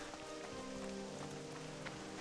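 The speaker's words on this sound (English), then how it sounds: "it's a rainy morning in Westfall" Rain falls on a rainy morning in Westfall in World of Warcraft Classic, a soft, steady patter of drops that stays faint and even throughout.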